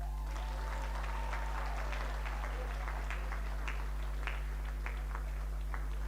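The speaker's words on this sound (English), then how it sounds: "please let's keep clapping for Professor Jaoko as he comes." Steady applause from an audience, a dense patter of clapping that carries on throughout at moderate volume.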